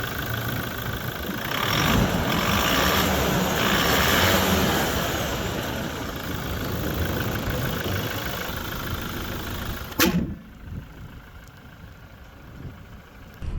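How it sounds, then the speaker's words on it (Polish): A 2025 Toyota Hilux 2.8 D-4D 48V mild-hybrid diesel idling at about 600 rpm, a steady mid-low engine rumble heard close up, with a sharp click near the end as it quiets. "Posłuchajmy jeszcze silnika"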